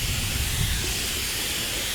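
An airless paint sprayer coats a fence with paint, giving a loud, steady broadband hiss that holds close and unbroken for the full two seconds, with no talking.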